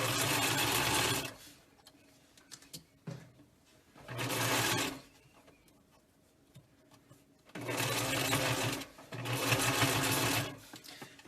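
Sewing machine stitching a quarter-inch seam along the top of a fabric face mask, running in four loud bursts with short backstitches and quiet pauses between, no talking.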